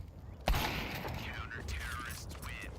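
A sniper rifle in a competitive multiplayer video game match sounds off with a sharp shot followed by mechanical bolt-action clatter, while a commentator talks over it.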